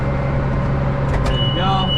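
A tractor engine revs up under added throttle while baling big square bales, a steady loud mechanical drone with a rising whine near the end.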